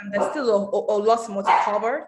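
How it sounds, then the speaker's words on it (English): A dog barks in the background of an indoor call while a person keeps talking over it, the barks blending under the steady speech. "I apologize for my dog barking in the background there."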